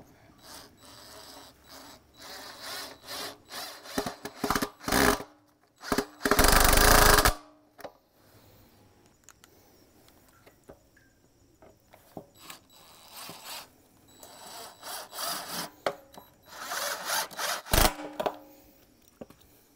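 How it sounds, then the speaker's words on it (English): Screws being driven into a plastic septic tank riser and lid, heard as a series of short, loud mechanical bursts with one longer sustained burst, separated by quiet handling noises and close, intermittent whirring. "And then we'll put the screws in."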